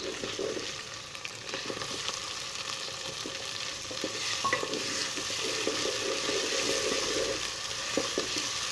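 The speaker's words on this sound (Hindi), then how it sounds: "अभी इसमें टमाटर शामिल कर लेता हूँ।" Tomatoes frying with garlic in a pan for potato pulao, a steady close sizzle with occasional soft scrapes and taps of stirring, no voices.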